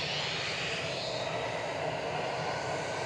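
A Finnair jet airliner at Manchester Airport, heard as a steady, fairly faint engine roar held at an even level throughout the brief moment.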